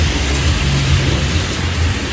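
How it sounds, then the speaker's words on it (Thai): Heavy rain pours in a dense, unbroken roar with low rumbling underneath, during a thunderstorm near a road and railway line. "เพิ่งจะเคยเห็นฝนตกหนักก็นาน นานมาก"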